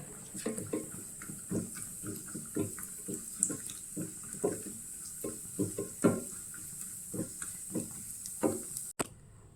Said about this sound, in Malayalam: ആ നെയ്യിലേക്ക് തന്നെ അണ്ടിപ്പരിപ്പ് കൂടി വറുത്തെടുക്കാം.